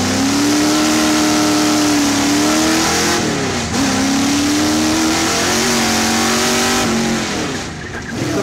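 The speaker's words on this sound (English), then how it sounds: "When I first got involved with Rod, we were running this V8 powered Escort here" Ford Escort race car fitted with a 1960s-designed Oldsmobile V8 engine revs loudly and close, holding a steady high drone with a few dips and climbs in pitch.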